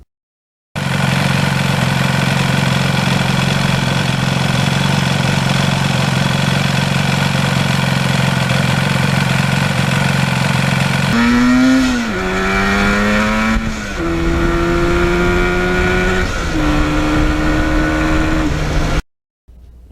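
A 1977 Yamaha RD400 two-stroke motorcycle with a tuned exhaust idles loud and close with a steady buzz, then revs in several rising bursts before cutting off.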